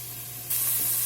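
A medium yellow onion goes into hot oil in a pan, giving a sudden loud hiss that jumps up halfway through and holds as a steady frying sizzle.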